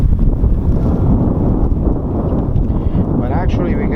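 Strong wind buffeting the microphone with a continuous low roar beside a beehive nuc, and a voice faintly audible near the end.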